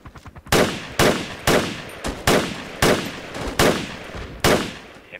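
Gunfire in Project Reality v0.95, a military shooter game on the Kokan map with USMC squads: seven sharp, loud shots spaced about half a second to a second apart, each ringing briefly, with faint crackling softer shots in the gaps.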